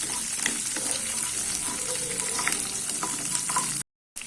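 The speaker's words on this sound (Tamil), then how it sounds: "இது லைட்டாக வதக்கிக்கலாம்." Small pieces of ginger and five or six garlic cloves sauté in a pan for chutney, giving a steady, close sizzle with light stirring scrapes that stops abruptly near the end.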